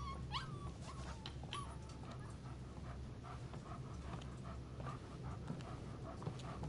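A dog in the video game Life is Strange 2 pants steadily and lets out a few high whimpers and yips early on, heard close over a low ambient game background.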